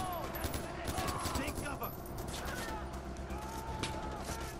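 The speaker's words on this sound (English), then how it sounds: "How many times I have to shoot this stupid fuck?" AK rifle fire in Far Cry 4: a steady stream of overlapping gunshots and impacts that carries through the whole stretch, with someone talking over the shooting.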